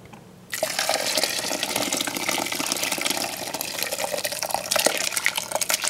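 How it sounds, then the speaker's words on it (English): Hot whey from fresh mozzarella making is poured through a large cheesecloth, giving a steady, loud splashing and trickling stream that runs without a break for several seconds. "and I'll pour this in"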